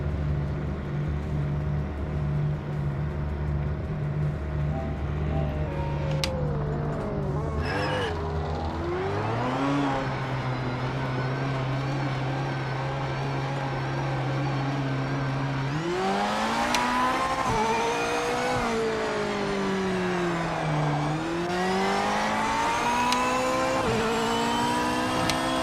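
A Corvette engine revs and shifts through gears in a racing video game, the pitch climbing, dropping and sweeping back up continuously and loudly for the whole stretch with no talking.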